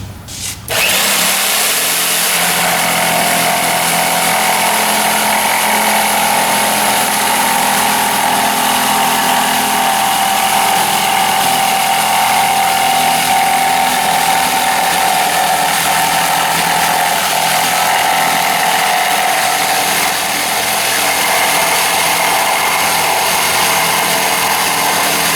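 An AGED 240 jigsaw cuts a sweeping arc, its loud, steady motor whine and rapid blade chatter running continuously for the whole stretch after a brief start, with no talking.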